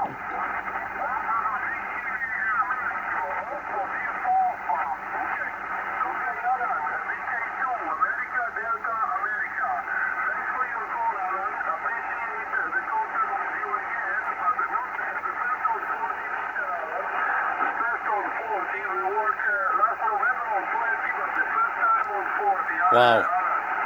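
HF amateur radio band signals and static from a Yaesu FT901D receiver, a steady hissing noise bed with faint warbling voices and carriers drifting through, plus a brief crackle burst near the end.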